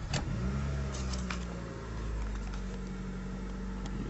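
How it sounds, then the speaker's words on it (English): A 2003 Honda car engine running just after starting, a steady low idle hum with faint clicks on top. "You see the engine running."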